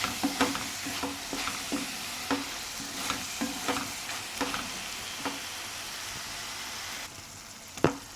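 Curry sizzles in a pan while a spoon stirs it in regular scraping strokes roughly every half second, over a continuous hiss of frying, with one sharper knock near the end.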